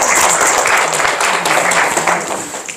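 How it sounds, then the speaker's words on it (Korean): Audience applause at a Korean research institute launch ceremony, a dense, loud wash of clapping from many hands, sustained throughout and fading slightly at the end. "박수로 환영합니다"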